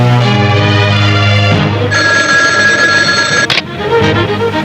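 A telephone rings steadily and loudly in an indoor scene from a Pakistani drama film. The ringing tone changes pitch partway through and continues without talk.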